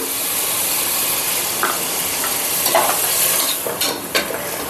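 Garam masala and coriander powder frying in a pan with softened ginger-garlic paste for a coconut-milk mushroom biryani, a continuous loud close sizzle with a few scraping stirs toward the end.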